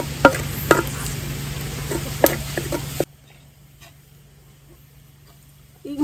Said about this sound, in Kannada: ಈಗ ಜಜ್ಜಿ ಪುಡಿ ಮಾಡಿದ ಶುಂಠಿ ಬೆಳ್ಳುಳ್ಳಿ ಪೇಸ್ಟನ್ನು ಹಾಕೊಳ್ತಿದ್ದೀನಿ, ಮತ್ತು 1 ಹಸಿಮೆಣಸು. ಸ್ವಲ್ಪ ಚೆನ್ನಾಗಿ ಫ್ರೈ ಮಾಡಿಕೊಳ್ಳುವ.